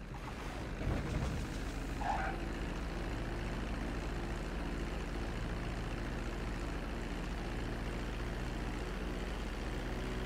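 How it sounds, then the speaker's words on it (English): A plane coming in to land on a runway in GTA 5, a steady low engine drone and rumble holding evenly throughout with no voices. "Start reducing the plane's altitude gradually so you're just above the runway as you approach."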